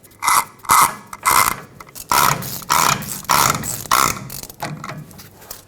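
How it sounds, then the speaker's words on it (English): A socket wrench tightens a hub nut on a 2011-2016 Ford F-350, giving eight loud, close ratcheting bursts in a steady rhythm with short pauses between strokes. "Stick your special socket in and tighten it up."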